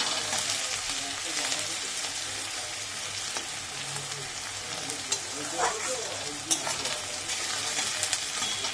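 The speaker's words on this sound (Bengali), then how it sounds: "এটা আগে একটু ভাজা হোক, তোমরা দেখতে থাকো" Marinated chicken for a shahi chicken curry frying in a pan, a steady close sizzle throughout with occasional stirring scrapes and small pops, no talking.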